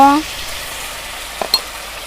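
Ginger and cumin paste frying in oil, a steady soft sizzle with a couple of brief utensil clicks, close by, after a short voice at the start.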